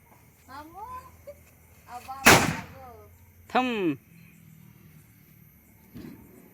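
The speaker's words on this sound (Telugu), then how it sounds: "మిరపకాయ బాంబు సురు సురు బాంబు అయింది" A chilli bomb firecracker goes off during Diwali with a single sharp, loud bang. Voices chatter faintly before and after it.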